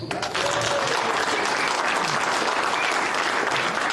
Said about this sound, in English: a round of applause for Ohio Political News.